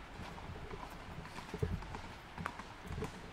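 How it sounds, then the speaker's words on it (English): A horse's hooves clip-clop faintly in an uneven rhythm on an outdoor walk, the scattered knocks sitting in low background noise with no talking. "There's a horse."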